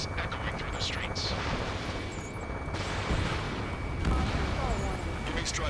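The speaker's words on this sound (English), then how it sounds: "Gunfire and the roar of jets echoing through the streets." Gunfire and jet roar in a city under martial law in the video game Ace Combat 7, a dense rumbling wash of distant shots and engine noise, with brief voices mixed in.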